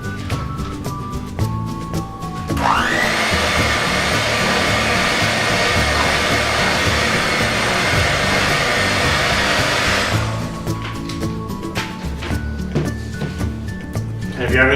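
A hand mixer whirs steadily for about eight seconds as it blends sweet potato casserole ingredients, a loud continuous motor drone with light kitchen clatter and speech before and after.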